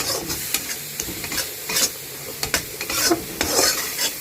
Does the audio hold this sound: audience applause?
no